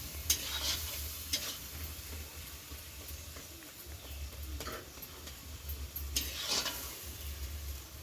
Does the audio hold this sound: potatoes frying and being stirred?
yes